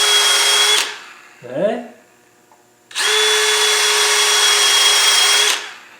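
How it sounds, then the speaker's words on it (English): A power drill bores out a hole to 5 mm tapping size during an oil-leak repair on a 90 300Tdi, in two loud, steady bursts, a short one and then a longer one, with a brief spoken word between them. "I just drilled it out just a little bit"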